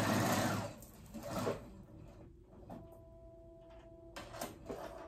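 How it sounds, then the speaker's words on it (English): A sewing machine top-stitching elastic on a dress: a close burst of fast mechanical whirring, then brief quieter clicks and a thin tone, before another short run of stitching. "I'm gonna go ahead and top stitch it there so I can catch my elastic"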